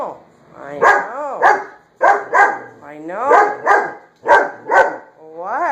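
A guard dog on alert barks in loud, close paired woofs, repeating in an uneven rhythm with no talk over it.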